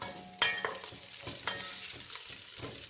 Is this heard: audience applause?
no